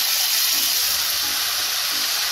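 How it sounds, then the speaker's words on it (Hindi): Tomato paste going into a pan of well-fried onions while making Punjabi-style rajma masala, giving a steady, close broadband sizzle that holds evenly throughout with no talking. "अब इसमें हम टमाटर का पेस्ट डाल देंगे"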